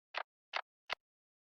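Three short, dry wooden percussion knocks from a lo-fi anime-style beat play on the grid without any swing, close and isolated, the last hit sharper and brighter than the first two.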